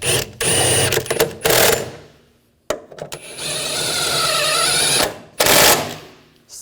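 Ratchet tightening valve cover bolts on a 2007-2013 BMW X5 3.0L inline-six, close rapid clicking bursts in several runs separated by short pauses.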